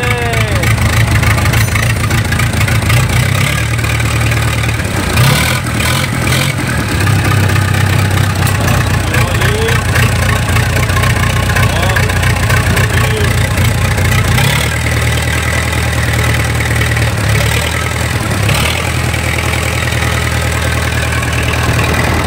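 A small homemade engine on a retro excavator runs with a loud, steady mid-pitched idle that shifts in tone partway through, while people talk near it.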